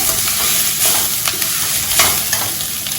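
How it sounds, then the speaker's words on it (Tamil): Cooked rice is stirred into fried coconut in a hot pan for a lady's finger pulao, giving a loud, close, continuous sizzle with repeated scraping strokes of a spoon. No one speaks. "இப்போ இந்த சாதத்தை இதில் போட்டுடலாம். இந்த சாதத்தை போட்டு ஒரு கிண்டின உடனே"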